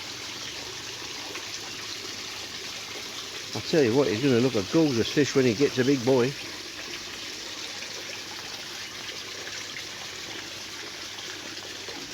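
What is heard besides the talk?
water trickling from a four-step aquarium shower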